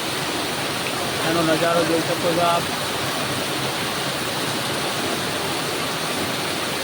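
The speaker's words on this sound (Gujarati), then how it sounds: "આજે સવારે વહેલા વહેલા જો ધોધમાર વરસાદ પડી રહ્યો છે અમારા ગામની અંદર" Heavy morning downpour over a village, a dense steady roar of rain that fills the whole stretch, with a voice speaking briefly near the start.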